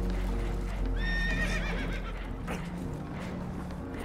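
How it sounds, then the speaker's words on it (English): Horses in the Red Dead Redemption 2 video game, spooked aboard a damaged boat, let out a shrill rising-and-falling whinny. Hoof clip-clop and a low steady rumble run underneath. "Horses are spooked, and we're taking on water."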